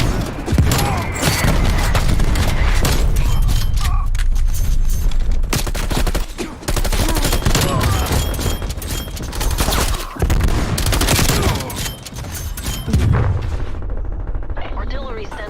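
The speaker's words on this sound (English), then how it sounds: "Artillery targeting detected." A video game artillery strike erupts with dense, loud, continuous explosions and rapid gunfire, booming and crackling without letup. A voice speaks under the barrage.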